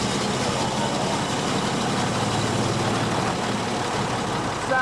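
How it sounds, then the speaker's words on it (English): A First World War tank engine fitted with overhead valves and crosshead pistons idles at an even pace, giving a continuous, deep mechanical rumble that stays loud and uniform with no voices. "Sounds absolutely gorgeous, this engine."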